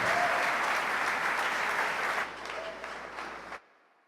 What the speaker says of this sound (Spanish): ¿Qué tal si les damos un aplauso a esos pastores que han hecho un trabajo excelente?